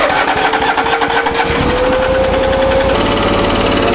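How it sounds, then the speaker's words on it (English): A disc grinding head fitted with many small tungsten cutters grinds away at an edge, giving a loud, continuous mechanical chatter with a slowly rising whine that steadies into a constant hum. "It's a disc with many little tungsten cutters on the top, and it grinds away at the edge."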